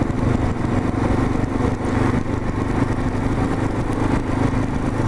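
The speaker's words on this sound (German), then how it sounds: "So, ein bisschen langsamer fahren, auf die Sally warten." A motorcycle rolls along slowly on a group tour with friends, its engine giving a steady, close, continuous rumble with road noise throughout and no voices.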